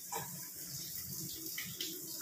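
Kitchen tap water running steadily over two dish scrubbers as they are rinsed at a sink, a continuous close splashing with no talk.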